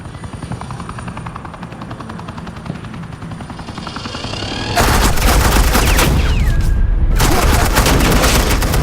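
Suppressing gunfire in the Batman: The Enemy Within video game, a dense, loud burst of automatic shots that erupts after a low rumbling helicopter-like drone, continuing steadily with a brief sweeping tone partway through.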